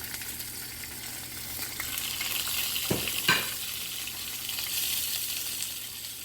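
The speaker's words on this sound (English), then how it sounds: "Now I got a little of the fish oil heating here. I'm going to add the onions and the pieces of ginger." Onions and ginger pieces drop into hot fish oil for a Jamaican snapper dinner, giving a steady close hiss of frying with a sharper sizzle burst as they hit the pan, no voices.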